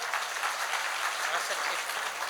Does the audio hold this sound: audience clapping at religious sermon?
yes